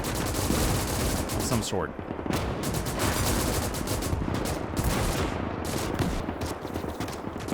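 A mech fires its three top-mounted machine guns during a Polish and Rusviet battle in the Winds of Iron 1920+ video game mod, producing a loud, dense, nonstop stream of rapid gunfire with a brief voice speaking over it.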